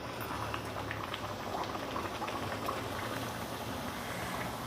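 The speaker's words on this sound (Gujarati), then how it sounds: "હવે એને આપણે તરી લઈશું." Samosa mathadi dough pieces frying in very hot oil, a steady dense bubbling sizzle with fine crackles running throughout, close and fairly loud, with no talk.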